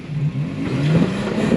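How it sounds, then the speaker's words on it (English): A Jeep engine revs through its exhaust on a wooded off-road trail, a loud, close, continuous drone that rises and falls in pitch with the throttle. "I really like the exhaust back here."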